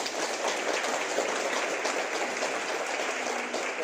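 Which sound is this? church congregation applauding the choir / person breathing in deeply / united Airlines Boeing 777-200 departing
church congregation applauding the choir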